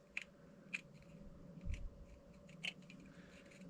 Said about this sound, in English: you can just use scissors for this